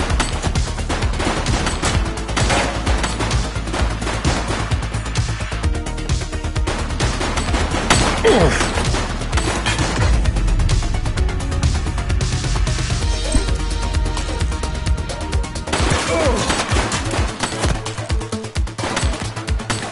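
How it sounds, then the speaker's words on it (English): Sustained, dense gunfire from a police action video game: rapid automatic bursts and overlapping shots rattle continuously at high level for the whole stretch, with brief crashes mixed in. "He's shooting!"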